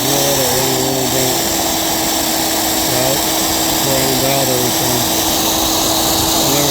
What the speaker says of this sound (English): So I'm going to turn the drill on.